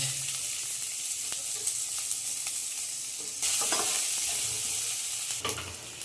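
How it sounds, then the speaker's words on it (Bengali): Chopped onions sizzle steadily in hot oil in a pan, a continuous close frying hiss with occasional stirring scrapes that swells louder partway through; no one speaks. "পেঁয়াজটা ভাজা হয়ে গেছে লাল লাল হয়ে গেছে"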